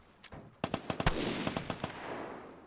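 Gunfire in the survival shooter Vigor: a rapid series of sharp, fairly close shots in uneven bursts, each crack snapping out over a low background rumble.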